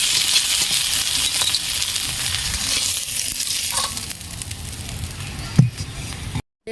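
Cumin seeds frying in hot oil in a pan, a continuous close sizzle and crackle, with a single sharp clink near the end before the sound cuts out.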